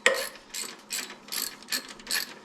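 A ratchet tightens the timing belt tensioner on a Nissan Pathfinder, giving about five rhythmic bursts of close, clicking pawl strokes with no talking.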